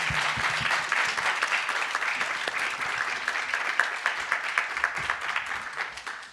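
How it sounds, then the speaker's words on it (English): A seated audience gives steady, dense applause for a panel at a university discussion event on AI, continuous and fairly far off, with a few sharper claps near the end. "How about a round of applause for our awesome panel here?"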